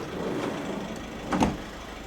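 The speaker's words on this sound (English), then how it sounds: "So, opening up these rear doors, I'll actually open up the side doors as well." Doors on a Volkswagen Caddy Maxi van are opened, a quiet mechanical clunk and sliding rumble near the end standing out against a steady outdoor background hum.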